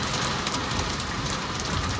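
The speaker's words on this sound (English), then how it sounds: "And the rain is really, really bad." Heavy rain pours down in a dense, steady hiss, loud and close, with no pauses and no voices, during a flooding storm heard from a Tesla.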